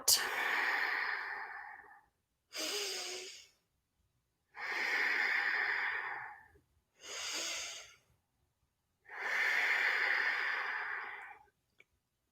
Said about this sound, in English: This is our star breathing exercise.